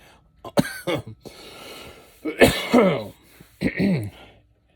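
Several rough, close coughs in uneven bursts, with breathy throat-clearing between them and brief quiet gaps.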